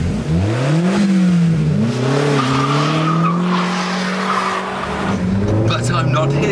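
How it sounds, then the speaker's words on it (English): A Ford Focus RS is pushed hard around a racetrack, its engine note climbing and falling through gear changes while the tyres squeal, loud and close throughout. "I'm here to feel just how good this RS is on a racetrack"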